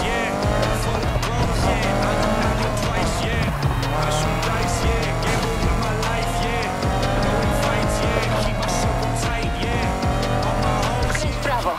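Race cars in the Need for Speed Heat video game, with loud, continuous engine drone and repeated tire squeals, set under a dense layer of game music and effects throughout.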